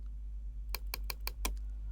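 Five quick key taps on a computer keyboard while entering a shortcut in a spreadsheet, close and crisp over a low steady hum, evenly spaced over about a second, with no voice.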